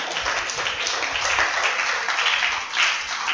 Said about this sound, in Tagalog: Medyo lumalakas na yung palakpak, pero mas may ilalakas pa yung ating palakpak